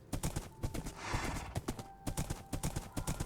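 Horse hooves clip-clop in a steady, lively rhythm of close, loud thuds in the Magika video game, with faint whinnying mixed in and no talking.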